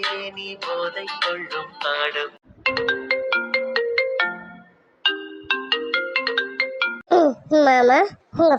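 Melodic phone ringtone playing a repeating tune in bright, clean phrases with short pauses between them, loud and close, followed by a brief sung or voiced passage near the end.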